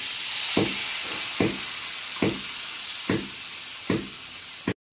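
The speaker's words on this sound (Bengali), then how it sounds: "গ্যাসের ফ্লেমটা মিডিয়ামে রেখে গুঁড়ো মশলাটা একটু কষিয়ে নেব" Ground cumin and Kashmiri chilli powder with a splash of water sautéed over a medium gas flame for a katla fish curry with potato and green banana: a steady sizzle cut by five evenly spaced spatula knocks against the pan.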